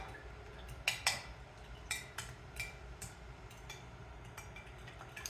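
Fork clinking and scraping against a dish while stirring a winter casserole, a string of light, irregular ticks close by in a quiet kitchen.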